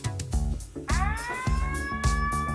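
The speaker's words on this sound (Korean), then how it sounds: "위험 구역에 진입하자 사이렌 소리와 함께 부지런히 움직이던 로봇 팔이 모두 작동을 멈춥니다." A safety siren sounds in a robot danger zone of an industrial workplace as a person enters, with the warning tone repeating in short bursts and then sweeping upward, loud and clear.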